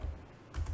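Brief typing on a computer keyboard, soft quick key clicks close up with no talking.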